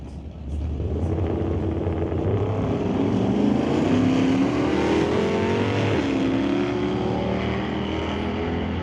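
A 1966 Plymouth Satellite and a Chevy II launch side by side at an NHRA Summit ET Series drag race, their engines roaring loudly and steadily as they accelerate down the strip. A pitch shift near the end suggests a gear change.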